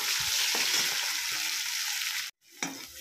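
Continuous sizzling of onions frying in a wok used for frying fish, close and steady, with a brief drop to near silence before the hiss resumes.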